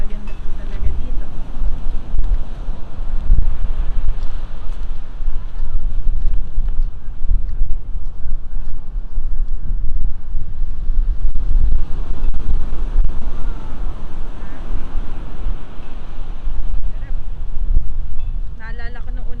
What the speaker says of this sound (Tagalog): Malakas lang yung alon.